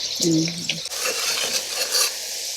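Curry powder with garlic and hot pepper sizzling and frying in hot oil, with a spoon stirring and scraping the pan near the start, close up.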